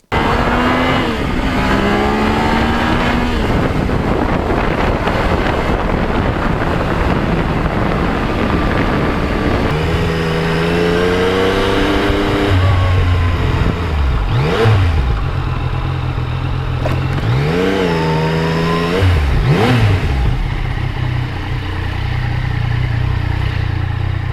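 A Yamaha MT-09 motorcycle ridden on a clean road, its engine droning loud and close throughout, rising and falling through several revving gear changes against steady wind noise, with no talk.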